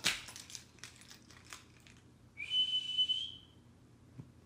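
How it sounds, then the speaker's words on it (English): A person whistles a single sustained, steady high note for about a second, close by and clear, after a stretch of faint rustling and small knocks in a quiet room, with no talking. "Why are you whistling?"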